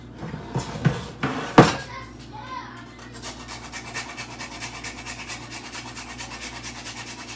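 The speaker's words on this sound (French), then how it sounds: "Je suis en train de râper les muscades." Whole nutmeg is grated by hand, a rapid, even rasping stroke repeating steadily for several seconds, preceded by a few clattering knocks and a voice.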